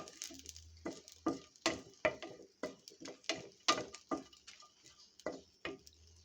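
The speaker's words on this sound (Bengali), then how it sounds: "শুকনো মরিচটা দেখুন ভাজা ভাজা করতেছি তেলের মধ্যে।" Dried red chillies fry in oil for mashed potato, heard as a string of soft, close crackles and ticks that come roughly every half second in an uneven rhythm, fairly quiet and without speech.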